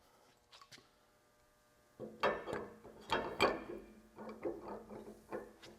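Screws on the base plate of a Bore Repair Systems BRS6 heavy-duty boring bar are tightened by hand, giving a series of close, sharp metallic ratcheting clicks in short bursts after a couple of faint taps.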